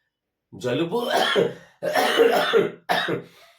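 A person with a cold coughs in three harsh, close bursts separated by short pauses.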